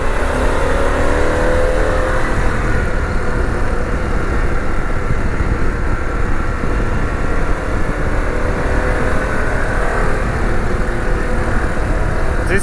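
A Harley-Davidson Pan America motorcycle's Revolution Max engine revs continuously and loudly, its pitch rising and falling as it accelerates, with no voices.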